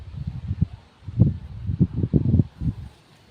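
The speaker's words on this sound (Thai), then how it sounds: "บรรยากาศลมแห้งแห้งพี่น้อง" Dry wind sweeps through a tall cornfield, producing close, uneven bursts of rustling and buffeting in irregular gusts, with no talking.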